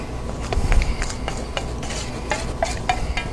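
Bran muffin batter for oat bran muffins with applesauce being stirred, liquid ingredients worked into dry ones, with repeated scraping and clinking strokes of a utensil against a bowl at close range.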